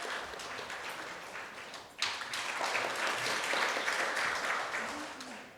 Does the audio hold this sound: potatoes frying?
no